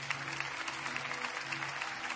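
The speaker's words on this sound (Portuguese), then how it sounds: "Dá uma salva de palmas a Jesus." A church congregation claps in praise, a brief, even patter of many hands with a soft crowd murmur underneath, moderately distant.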